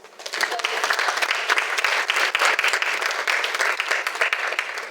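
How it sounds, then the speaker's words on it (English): A crowd applauds steadily and loudly for several seconds, dense clapping with no break and a faint murmur of voices mixed in. "I think we should clap for them a bit more."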